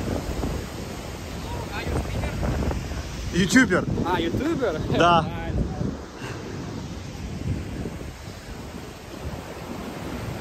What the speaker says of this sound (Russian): сейчас прям течет, бушует река